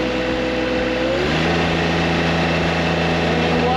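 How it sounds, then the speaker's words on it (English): Engine held at wide open throttle while hydraulic pressure is checked on heated oil, a steady loud drone with a rising harmonic tone settling into a constant high-load hum, near and continuous. "And wide open throttle."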